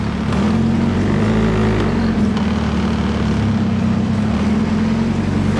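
A Nissan 240SX on a test drive after new caps were fitted, its engine droning steadily and loud with a constant low hum and road noise throughout, no one speaking.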